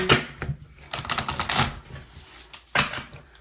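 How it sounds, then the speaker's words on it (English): Crisp, rapid riffling and slapping of tarot cards being shuffled, in irregular bursts with brief pauses, close up and fairly quiet. "Let me shuffle one more time."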